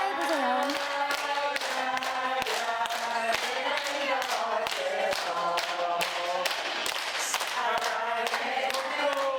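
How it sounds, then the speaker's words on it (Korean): People clap their hands in rhythm during a finger exercise, with sharp claps repeating over background singing and music, close and steady. "다시 박수."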